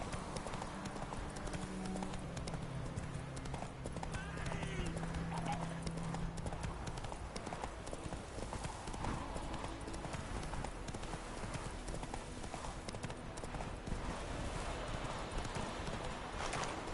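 Horse hooves gallop in The Witcher 3, a rapid, continuous clip-clop of a ridden horse over steady ambient game sound, with a brief voice early on.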